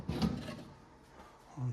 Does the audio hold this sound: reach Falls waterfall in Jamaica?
no